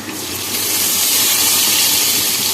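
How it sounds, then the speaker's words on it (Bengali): Water from ground mustard and cumin paste is poured into a hot pan of fried potatoes for a fish curry. It makes a loud, continuous hiss of steam and splashing liquid that builds quickly and holds steady. "সর্ষে আর জিরে বাটে বেটে জল দিয়ে রেখেছি এই জলটা এর মধ্যে দিয়ে দেবো"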